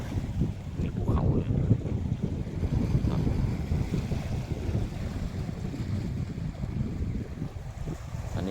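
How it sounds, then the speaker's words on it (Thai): Wind buffets the microphone at a seaside boat pier on the Thai coast near Ko Samet, with a steady low rumble of waves and water beneath it, continuous and fairly loud throughout. "นี่ทะเลนะครับ"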